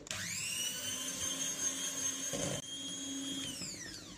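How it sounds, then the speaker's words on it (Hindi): An electric beater whirs steadily while beating eggs with powdered sugar for orange cupcakes, a loud constant high whine that holds for several seconds and then winds down at the end. "मैं इलेक्ट्रिक बीटर यूज़ कर रही हूँ"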